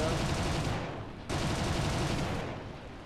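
Bursts of heavy gunfire from War Thunder simulator battles, a dense crackling volley that dips briefly and then resumes, moderately quiet in the mix.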